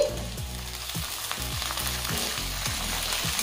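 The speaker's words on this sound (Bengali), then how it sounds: "এবারে আলু আর ফুলকপি আরেকটু ভেজে নেব।" Potatoes and cauliflower frying in a pan, a dense, continuous sizzle with soft stirring, close and fairly loud throughout, with a low tonal hum underneath.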